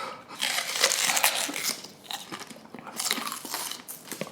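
Raw onion is bitten and chewed hard at close range, giving wet, crisp crunching that continues in uneven bursts.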